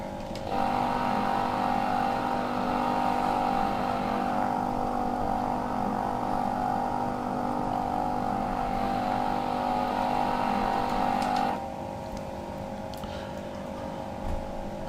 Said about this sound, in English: let's get this left engine started